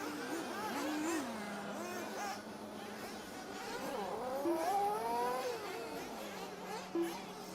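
Off-road racing buggies rev their engines with rising and falling whines as they are called into the pit lane on a wet track at an Asian Buggy Championships round in Australia, steady and fairly loud throughout.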